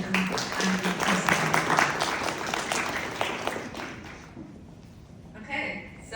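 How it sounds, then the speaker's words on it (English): An audience applauds to welcome a speaker at a talk, a dense burst of clapping for about four seconds that fades out, followed by a short spoken name. "Let's give a warm round of applause"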